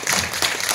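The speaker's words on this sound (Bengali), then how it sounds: "Get applause for him." An audience at a gathering gives brief, dense applause with steady overlapping claps, close and fairly loud.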